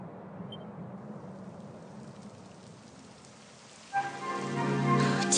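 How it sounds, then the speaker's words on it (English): Rain falling in Dragon Quest XI, a soft steady hiss that swells sharply near the end into a louder, brighter downpour with a layer of tonal background music. "It would have to go and start raining, wouldn't it?"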